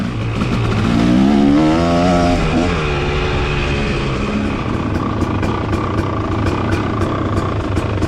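A motorbike engine on a riding lap, loud and close as it revs up with rising, wavering pitch, then settles into a steady drone, with no voices.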